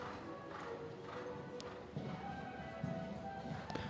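Hooves of a showjumping horse on an arena course, soft rhythmic thuds heard faintly at a distance amid low background noise, with a brief voice.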